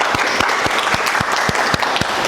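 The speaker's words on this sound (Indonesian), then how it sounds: "kita beri aplaus dulu" Steady applause from an audience at an Indonesian lecturer certification ceremony, many hands clapping in a dense, even rhythm throughout, loud and close with no talk over it.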